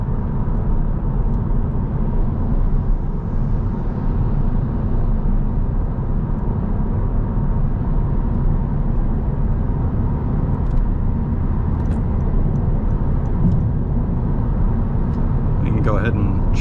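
A 2024 Honda Civic accelerates onto a freeway, its steady road and engine roar filling the cabin evenly with a constant broadband drone throughout.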